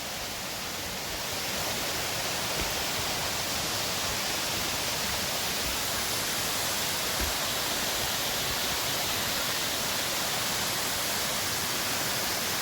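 Water flows at Aruvikkachal waterfall in a steady, dense rush of broadband noise. It stays loud and even throughout, with no voices.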